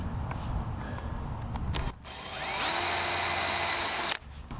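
Power drill spinning a 1/4 inch bit while fitting a boat rod tie-down, first some handling knocks, then a steady rising whine as the motor runs at speed for about two seconds before stopping abruptly.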